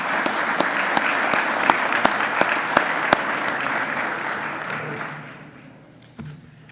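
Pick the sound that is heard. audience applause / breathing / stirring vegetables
audience applause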